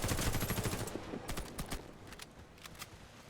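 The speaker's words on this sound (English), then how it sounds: "swift precise action from the SMG whenever possible" Rapid automatic bursts from the ZX84 SMG in the shooter game Warface, loud rattling volleys at first, then shorter sporadic shots fading toward the end.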